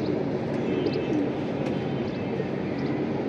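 A loft of pigeons coos continuously at close range, a thick bed of throaty rolling calls, with a few light chirps scattered across it and no voices.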